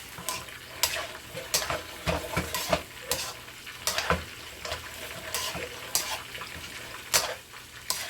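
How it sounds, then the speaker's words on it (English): A spatula scrapes and stirs a chicken and broccoli stir-fry with stir-fry sauce in a sizzling pan, making a series of sharp, rhythmic strokes about a second apart over a soft hiss, close and unvoiced. "We are going to add a little of our stir-fry sauce. And again, I am stirring."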